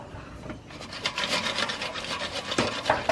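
Potatoes scraping and rasping in a hot pan, a steady rough crackle with a few louder scrapes, close by and without any talking.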